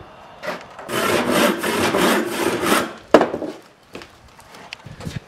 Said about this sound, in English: and then we'll just cut that to length.